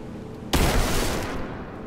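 Shooting an oil cask in Rise of the Tomb Raider sets off a sudden loud burst roughly halfway through, following a quieter stretch, then a rumbling fiery tail that slowly fades, with no speech.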